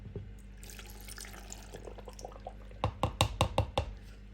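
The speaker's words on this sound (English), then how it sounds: "so now you can add in your stock." Stock poured into a soup maker already loaded with chopped vegetables and lentils for lentil soup: a soft trickle of liquid, then a cluster of sharp splashing glugs and knocks near the end, close and alone.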